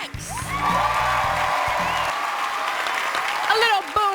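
A concert crowd at a televised New Year's Eve countdown show applauds, whoops and cheers loudly and steadily, while music tones and a voice carry through the noise.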